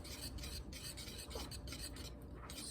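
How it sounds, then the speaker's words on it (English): Rice pudding being stirred in a pot for Portuguese rice pudding, a steady soft scraping and swishing that runs continuously at close range with no talk. "Keep stirring it."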